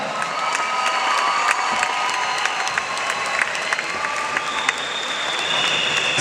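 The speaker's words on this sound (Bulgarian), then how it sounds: "Още веднъж вашите аплодисменти за Ина Ананиева." An audience in Sofia claps steadily and continuously for Ina Ananieva, with a bright, dense texture of many hands and faint cheers, at moderate volume throughout.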